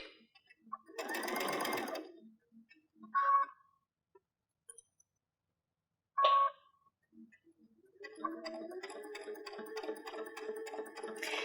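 A sewing machine stitches patchwork fabric for stockings at a very short stitch length, running in brief bursts broken by pauses and small clicks, then settling into a longer steady rattling run.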